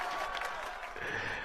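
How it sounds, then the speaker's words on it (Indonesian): Applause from an audience, a brief, fairly faint patter of many hands clapping with a light crowd murmur underneath. "Tepuk tangan dulu teman-teman."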